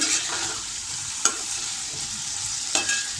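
Potatoes sautéing over medium heat in a pan, a continuous hissing sizzle with two brief spoon scrapes, close and steady, no speech.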